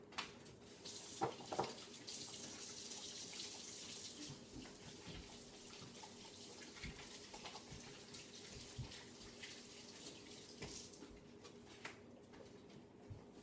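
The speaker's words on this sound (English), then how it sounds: "Let me wash my hands, hold on." Hands washed under a running kitchen tap, a steady close hiss of flowing water with occasional splashes and small knocks throughout, no talking.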